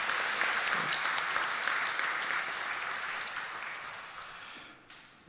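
A church congregation at a Sunday service claps together in sustained, even applause that gradually fades toward the end.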